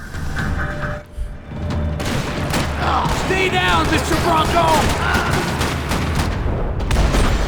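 Rapid bursts of gunfire and booms from the video game Max Payne 3 crackle throughout, dense and continuous, with a voice shouting over the shooting.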